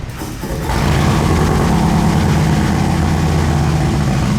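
A motorcycle with a 131 cubic inch Milwaukee 8 engine, boosted to around 160 horsepower, fires up and settles into a loud, steady, deep rumbling idle up close, with no talking.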